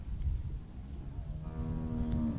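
A cow in The Walking Dead video game lets out a single drawn-out moo, fairly close and clear, over a low murmur of background noise.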